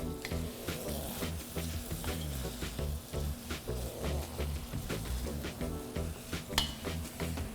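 Onions hitting a hot stir-fry pan with chicken and noodles, a dense continuous sizzle with scraping stirs and occasional clinks of utensil on pan, close up.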